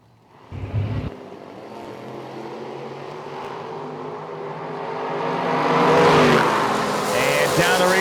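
Pro stock style 1993 Chevy S10 drag trucks with big-block Chevy engines, 496 and 563 cubic inches, roar off the line at a drag strip, a loud engine blast swelling then sustaining as they race away, with faint crowd and announcer noise.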